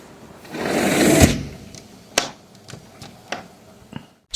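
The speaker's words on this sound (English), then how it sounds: "Okay, gotta shut the door." A house door being shut against a heavy snowstorm in Ontario or Quebec, with a burst of rushing wind and rustle, then a solid thud and several sharp latch and handle clicks close by.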